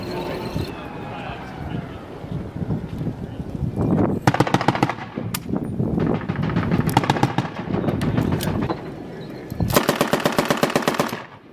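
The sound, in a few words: Marines firing guns at a Taliban compound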